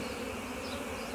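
Honeybees swarm in an open beehive during an inspection, a dense, continuous buzzing hum close by with no break.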